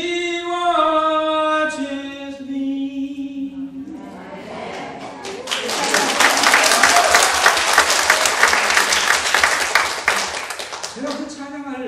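Church audience applauding after a hymn, a solo singing voice ending before a long burst of dense clapping from many hands, loud and steady, then the voice returns.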